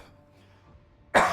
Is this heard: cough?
yes